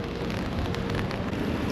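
Rain falls steadily on the wet wooden boards of a riverside observation platform by a bridge, a dense, even hiss that stays constant throughout.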